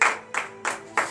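A church congregation at a morning prayer service claps four times in unison at a slow, even beat, each clap sharp and close with a short ringing tail.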